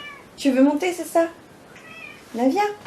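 Pet cat meowing outdoors among garden foliage, several short close meows in two bursts, with someone speaking to it in French.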